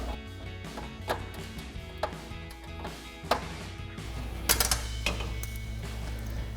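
Socket ratchet working a 10mm exhaust bolt loose underneath a GMC Sierra 1500: irregular clicking ratchet strokes and metallic knocks, close and fairly quiet, with a steady low hum beneath.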